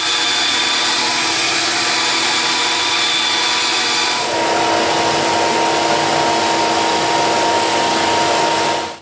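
A power tool cuts through a high density polyethylene cutting board with a loud, steady whine close by, its pitch dropping midway as the blade bites into the plastic.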